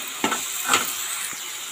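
Goat offal being stirred in a frying pan, a steady close sizzle with a few scraping strokes of the spoon rising briefly above the hiss.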